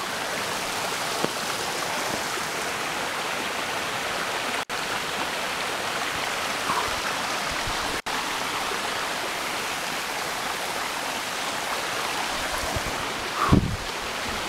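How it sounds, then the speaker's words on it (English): A small river flows beside a hiking trail in Hawaii, a steady, broadband rush of water holding constant throughout, close and continuous with no talk over it. "A little river here."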